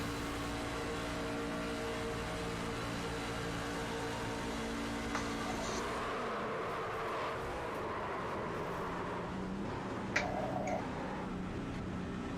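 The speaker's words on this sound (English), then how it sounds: "This is them racing into the corner, into 1 and 2." Racing trucks at Daytona drive into turns 1 and 2, a continuous multi-engine roar that holds steady and then shifts and fades slightly as the pack sweeps through the corner; no voices.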